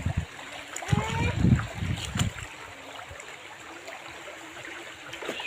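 Stream water in a rural spot in Bicol province, flowing and splashing in a few loud bursts early on and then settling to a softer, steady trickle, with people talking nearby.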